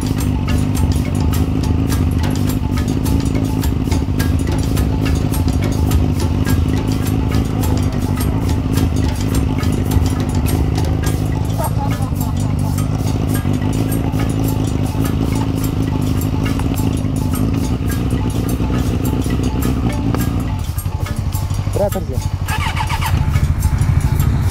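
A motorcycle engine runs loudly and continuously as the rider shifts up through the gears, a steady close drone that dips briefly near the end.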